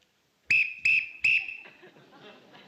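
A lifeguard's whistle gives three sharp, loud blasts in quick succession, followed by faint murmuring and laughter.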